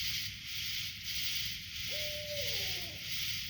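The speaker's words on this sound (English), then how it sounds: "Hear the owls." An owl hoots once outdoors at night, a clear falling call standing out against a steady whine of night insects, with no talking.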